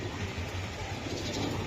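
Racing pigeons coo softly in a short, close burst of low, throaty, repeated murmurs, with no other sound over them.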